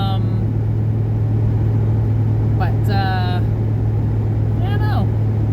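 A 1981 Fox body Ford Mustang's engine drones steadily as it is driven along a rolling, twisting road, a continuous low hum throughout, with short faint chirps briefly rising above it.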